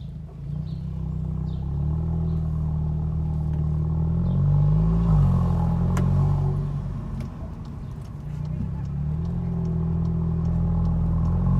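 A Cupra 300 with a DSG gearbox and resonator-deleted exhaust driven slowly: a steady, deep, loud engine drone that swells slightly midway, with a faint wind hiss and no talking.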